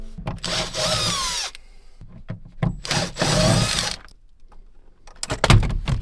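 Power drill backing Torx screws out of the grab handles inside a Jeep Cherokee during headliner replacement: two loud, close whirring bursts of a second or so each, separated by clicks, clatter and handling noise.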